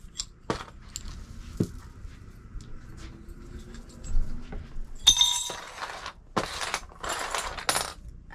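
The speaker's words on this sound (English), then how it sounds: "Let me put these bones up real fast." Divination bones set down one after another, giving sharp, brittle clinks and clatters, sparse at first and then a denser cluster of rattling knocks near the end, close and fairly quiet with no talking.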